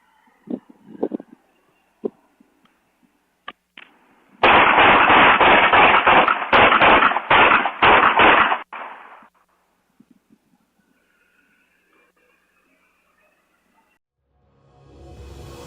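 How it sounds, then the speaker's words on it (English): A rapid burst of gunfire from a vehicle speeding down a residential street at night rings out as a dense, loud string of cracking shots lasting several seconds, preceded by a few isolated pops and followed by quiet and a rising engine noise. "The sound of gunfire shatters the silence."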